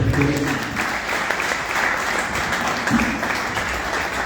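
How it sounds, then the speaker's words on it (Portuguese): An audience at a crowded celebration gives a loud, sustained round of applause, a thick wash of many hands clapping at once with voices blended in. "Uma força de palmas, senhoras e senhores"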